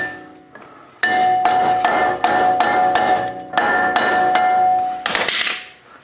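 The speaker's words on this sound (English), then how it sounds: "take a soft hammer on the back side and give it some taps" Repeated ringing metallic taps from a soft hammer striking the back side of a brake rotor on a 2010-2018 Toyota 4Runner, about a dozen loud close blows in an uneven rhythm with short gaps, no talking.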